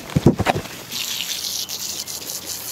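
Water running from a tap or hose to shower a dog after a walk in the woods, a steady close gush that follows a few brief louder splashes at the start.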